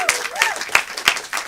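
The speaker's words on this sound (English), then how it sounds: "Give her a round of applause." An audience claps for a monologist at a live show, a few distinct, fairly loud claps spaced evenly in a short burst.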